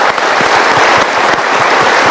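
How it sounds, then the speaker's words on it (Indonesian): A studio audience at an Indonesian motivational talk show bursts into loud, close applause, a brief dense patter of many hands with sharp individual claps standing out. "Kita berikan tepuk tangan dulu."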